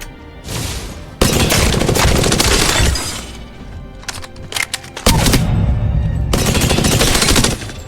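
Automatic weapon fire in the video game Apex Legends, loud rapid bursts of gunshots with sharp cracks and brief gaps between sprays, heard up close with no talk.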